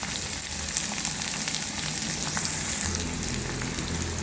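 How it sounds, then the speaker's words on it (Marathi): Chopped onions sautéing in a pan, cooked toward golden brown after ginger-garlic paste for Maharashtrian village-style vangyacha bharit, giving a steady close sizzle and crackle with faint stirring and no talk. "आणि याला छान गोल्डन ब्राऊन होतपर्यंत परतून घ्यायचं आहे"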